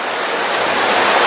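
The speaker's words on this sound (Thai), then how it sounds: "ฝนเหรอเนี่ย" Steady rain falls outdoors in Udon Thani, a loud, dense, unbroken hiss of drops filling the short moment with no voices.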